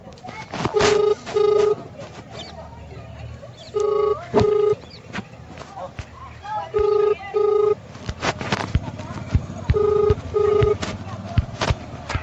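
Telephone keypad tones sound in short repeated bursts of paired beeps, several groups spread across the clip with brief gaps, fairly loud over a noisy room with scattered clatter and voices.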